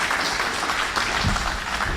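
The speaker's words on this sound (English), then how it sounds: "let's give John a big round of applause because he's tremendous" Audience applause at a land use planning talk for John Duarte, a steady wash of clapping at moderate level, fairly distant, with no speech over it.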